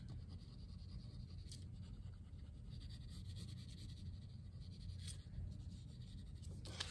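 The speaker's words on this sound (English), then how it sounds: "I can take my pencil then and kind of clean it up around the edges" A pencil rubs and scratches over paper while shading and cleaning up the edges of a drawing, a faint continuous scraping with a few sharper strokes, heard alone.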